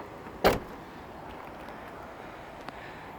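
2019 Toyota RAV4 GX 2WD car door shut once with a single sharp thud early on, followed by a faint click later against quiet outdoor background; no talking.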